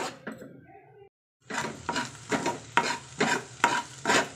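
Egg rice is stir-fried in a pan, with rhythmic scraping strokes of a spatula against the metal over a soft sizzle after a brief pause, each stroke a distinct close rasp.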